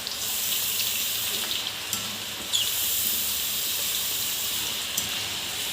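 Chana dal fries in hot oil, giving a steady, dense sizzle with faint crackles that holds close and fairly loud from start to finish.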